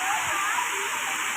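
Thalakona waterfall pouring down, a steady broadband rush of falling water heard up close, continuous and even throughout without clear voices on top.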